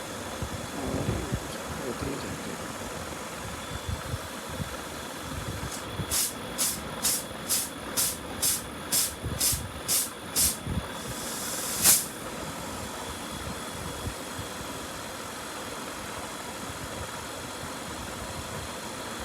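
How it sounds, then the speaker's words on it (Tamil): A compressor runs with a low, steady hum, while a row of sharp, evenly spaced clicks sounds midway and a single louder click follows shortly after. "இப்போ வரைக்கும் கம்ப்ரஸர் ஓடிட்டு தான் இருக்குது"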